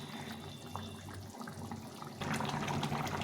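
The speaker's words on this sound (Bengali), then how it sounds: "ঝোলটা ফুটে গেছে," Fish curry gravy boiling in a pot, a continuous bubbling, watery rush that swells noticeably louder partway through, with no talking.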